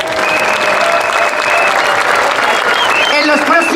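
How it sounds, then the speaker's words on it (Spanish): A crowd at a pensioners' demonstration in Madrid breaks into loud, sustained applause, dense clapping that carries steadily through the whole moment. "un fuerte aplauso."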